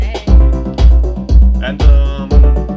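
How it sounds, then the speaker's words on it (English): Conga drums playing as an added percussion layer in a studio arrangement, with five deep, resonant hits in a steady pulse, loud and close over a musical backing, no talking. "Some additional drums, like congas."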